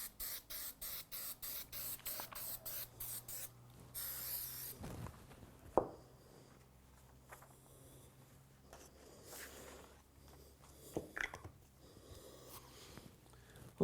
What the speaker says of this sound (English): I need to affix it with spray adhesive